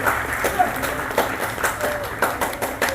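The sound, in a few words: audience loud applause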